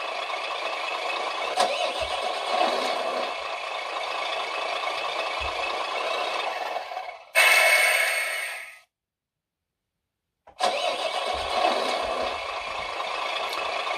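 A GT Power entry-level sound and light module on an RC container truck plays a loud, rattly electronic engine start and idle, cuts out abruptly into a couple of seconds of silence, then starts again.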